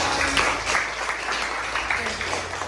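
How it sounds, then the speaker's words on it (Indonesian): Classroom applause after a student presentation, a dense, continuous patter of many hands at fairly loud level, steady throughout with no voices breaking through. "Tepuk tangan untuk kalian semuanya."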